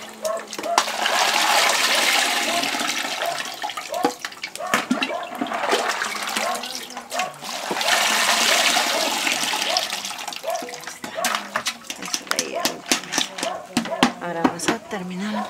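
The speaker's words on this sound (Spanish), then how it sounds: "Ese se cuela con coladorcito y su agüita para que caiga todo eso de mojadito." Liquid is poured with a little water through a small strainer while cooking Ayacucho-style mondongo, giving two long bursts of rushing, splashing flow close by, with a shorter trickle and clatter between them.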